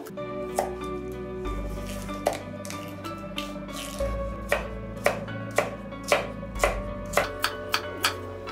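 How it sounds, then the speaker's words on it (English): A knife chopping carrots on a cutting board for a roast turkey dish: crisp, evenly spaced thuds speed up toward the end, close and clear over a faint background hum and a sizzle. "Chop the carrots."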